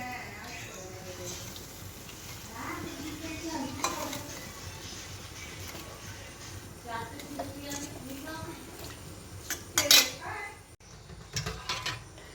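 Fish curry simmering in a pan and being stirred, with soft scrapes and clinks of a spoon against the pan and a faint sizzle, heard under a person's talk.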